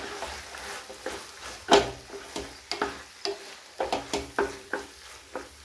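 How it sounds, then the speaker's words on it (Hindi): A spoon stirs spicy Indian-style masala macaroni in a pan on the stove, giving a run of irregular scraping clicks and soft taps with a light sizzle underneath, close by and moderately loud. "फिर इसको अच्छे से मिक्स कर लेंगे।"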